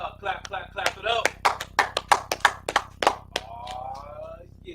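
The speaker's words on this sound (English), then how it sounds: "clap it up" People clap at an Atlanta Sabbath service, a quick run of sharp handclaps in an uneven rhythm, close and fairly loud, with voices talking alongside.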